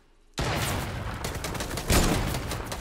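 Rapid bursts of gunfire in a one-on-one video game match erupt suddenly after a brief quiet and continue as dense, loud overlapping shots, with a heavier boom near the end.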